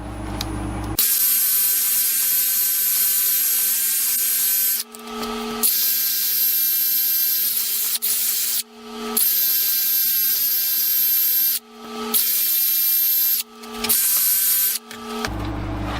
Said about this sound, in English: And then I sand it with 240 again.